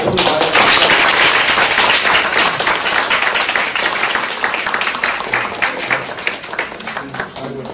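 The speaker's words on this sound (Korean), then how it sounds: "큰 박수로" Audience applause at a lecture on a classic Korean text, a dense, steady wash of many hands clapping close by that tapers slightly toward the end, with a voice briefly audible beneath it.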